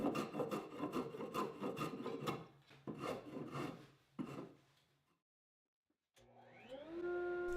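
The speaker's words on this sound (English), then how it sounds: "Then I'm chamfering the edges of each tenon a bit, so no wood will break off later when it goes into each mortise." A tool chamfers the edges of wooden tenons in a series of quick, close rasping strokes. The scraping fades to near silence, then a power tool hums up to speed.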